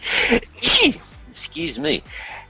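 A sharp, loud sneeze bursts out, followed by a second sneeze-like burst, with a few short voiced sounds in between.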